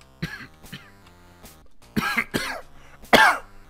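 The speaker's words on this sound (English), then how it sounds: "Oh, sorry, I'm coughing today." A person coughs in several sharp bursts with short pauses between them, the last burst the loudest, close and clear with no speech over them.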